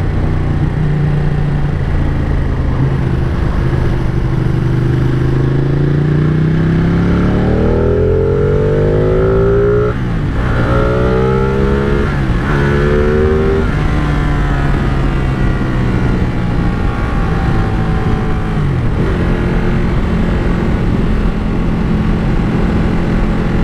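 A 2017 Ducati Panigale 959 accelerates hard on a ride toward 125 mph, its engine loud and close with rising, falling pitch sweeps through repeated gear changes over steady wind roar.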